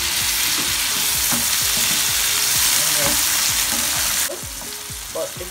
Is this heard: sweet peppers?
yes